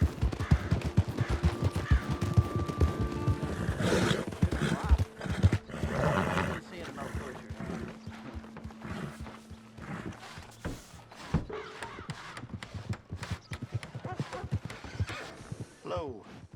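A horse in the Red Dead Redemption 2 game, with a clear whinny and neigh, then steady clip-clop of hooves and scattered thuds, heard up close beneath occasional voices.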